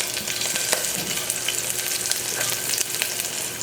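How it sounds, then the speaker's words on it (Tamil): Spices and green chillies sauté in a pan for a mutton curry, giving a dense, crackling sizzle with frequent spatters and pops that carries steadily and close throughout. "நல்லா வதக்கிக்கோங்க."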